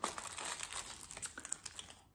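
Thin aluminium foil crinkled and pressed by hand into a small chimney shape around a candle, giving steady close crackling and rustling that comes in bursts, with no talking.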